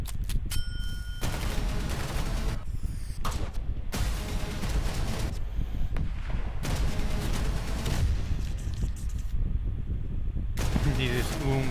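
Video game trailer gunfire plays as dense, loud bursts of shots and booms over a continuous soundtrack, with brief gaps between volleys.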